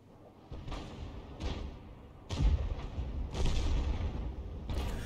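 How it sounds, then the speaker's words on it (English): In a tank video game, 18cm artillery shells from an Object 261 strike near a VK4502B, landing as several heavy booms spaced about a second apart, each with a rumbling, decaying tail, moderately loud and with no speech. "that was a non-penetrating shot, went straight into the side of the VK4502B"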